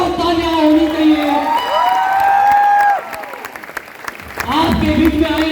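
A crowd claps and cheers loudly, with whoops and a voice on a loudspeaker carrying over the applause.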